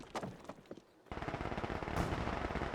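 Machine gun fire in a Company of Heroes 2 multiplayer battle, a short burst followed by a sustained, dense rattle of automatic fire mixed with other gunshots.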